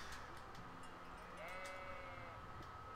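Sheep bleating in the video game Kingdom Come: Deliverance, one drawn-out wavering bleat rising clearly over a busy bed of ambient game sound.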